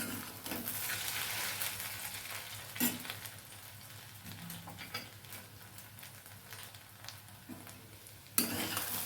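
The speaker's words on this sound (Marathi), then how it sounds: "आता हे छान परतून घ्यायचे आपल्याला" Mashed potato for a fasting dish sautéing in a pan, a soft continuous sizzle with scattered spoon scrapes and stirring knocks, close up and moderately quiet, no speech.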